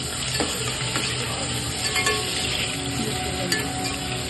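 Onions frying in a pan for coriander chicken gravy, a dense continuous sizzle with occasional spoon scrapes and light clinks from stirring, close and steady, no one speaking.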